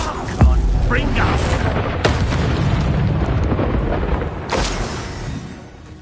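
Confringo spell blasts in Hogwarts Legacy, a loud booming explosion followed by further heavy bursts and rumbling debris, with a voice shouting between them.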